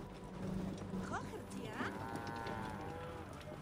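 A cow moos in the video game Assassin's Creed Origins, a short low call amid busy game ambience with hoofbeat-like clopping and a voice talking.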